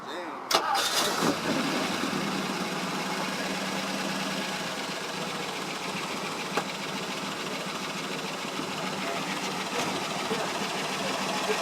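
A vintage car engine runs with a smooth, even, fast mechanical whir at a car show, steady throughout after a brief clatter at the start, fairly close.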